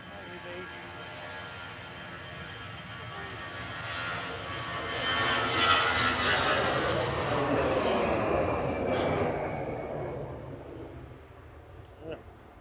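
An EasyJet airliner passes at Manchester Airport, its jet engines rising to a loud roar at the peak, then fading into the distance, with people talking faintly underneath.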